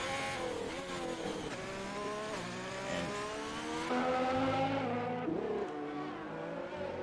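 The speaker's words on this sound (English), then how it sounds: "the noise from the engines, those V6 turbos, my apologies, echo across the hills and trees" Simulated V6 turbo Formula 1 engines racing at the Brazil Grand Prix in F1 2020, a continuous loud roar with rising and shifting revs as several cars scream past one after another, no talk over it.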